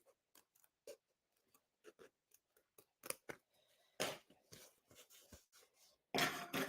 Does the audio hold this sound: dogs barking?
no